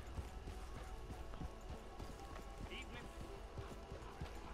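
Horse hooves clip-clop in Red Dead Online, a steady run of rhythmic thuds under a busy layer of game noise, with someone talking over them at moments.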